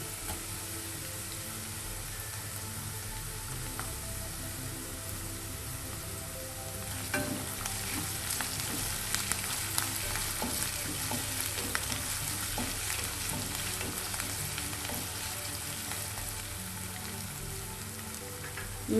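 Chopped ginger and garlic frying in oil for tuna pickle, a steady close sizzle with scattered crackles that grows busier partway through, joined by frequent stirring scrapes.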